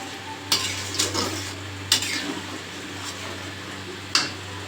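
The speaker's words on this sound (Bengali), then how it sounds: "এবার ডালটাকে আমি একটু নাড়িয়ে দেব।" A spoon stirs dal (lentils) with bitter gourd in a pot: a few scraping clacks against the metal over a soft low simmer, close and alone.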